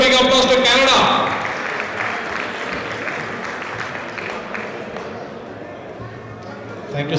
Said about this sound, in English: Give a big applause to Canada.